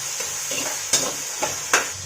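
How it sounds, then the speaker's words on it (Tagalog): Tomatoes sautéing in a pan for Maguindanaoan goat meat sinina, a soft sizzle under a few sharp clinks of a spoon against the pan, close and brief. "Igisa natin hanggang sa masos-sos yung kamatis."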